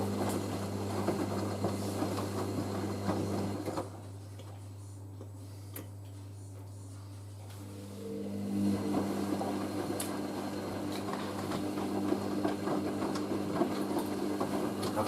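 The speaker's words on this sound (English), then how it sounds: "On the final rinse, or the machine says final rinsing." A Hoover SIX AAA160 Whisper 1600 washing machine runs the final rinse of a heavy synthetics 50°C cycle, giving a steady low motor hum with a quieter lull before the churning swish resumes.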